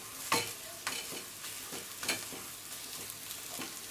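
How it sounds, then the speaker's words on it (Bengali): Spices are stirred in a pan for egg devil, with a utensil scraping and clacking against the metal in a loose rhythm of a few strokes over a faint sizzle. The sound is close and quiet, and no one speaks. "মশলাগুলোকে ভালোভাবে মিশিয়ে নেবো।"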